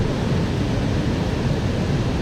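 A waterfall near Kalpeshwar Temple in the Urgam Valley, Uttarakhand, with heavy water flow, gives a dense, loud, unbroken roar of rushing water close by.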